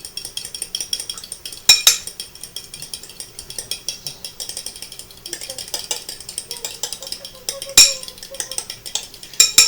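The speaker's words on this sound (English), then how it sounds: "Grab a fork and whisk it together." A fork whisks eggs in a bowl, clinking and scraping against the sides in quick, steady, repeated strokes close up, with a few sharper knocks along the way.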